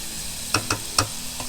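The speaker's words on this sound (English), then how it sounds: "The chicken is frying up real nice." Chicken and onions frying in a Power XL cooker, with a steady soft sizzle broken by three or four sharp scraping stir strokes at close range; no voices.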